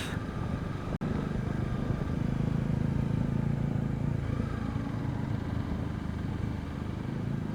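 A Kawasaki ZX10R superbike engine runs on a Sunday group ride, a steady droning motor with sustained low rumble and buzz throughout, one sharp brief click early on, no talking.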